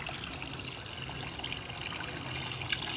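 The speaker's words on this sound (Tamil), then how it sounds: "நல்லாவே தண்ணி ஊற்றணும்." Water is poured onto garden plants in a steady, close trickle and splash that runs on evenly without pause.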